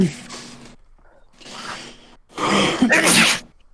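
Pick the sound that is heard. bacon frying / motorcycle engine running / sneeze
sneeze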